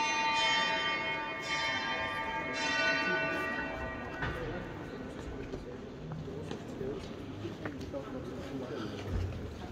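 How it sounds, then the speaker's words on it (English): Church bells peal and ring out over a busy room of murmuring voices inside the Church of the Holy Sepulchre in Jerusalem at Christmas, the chimes fading as the crowd noise carries on. "you can hear the bells now."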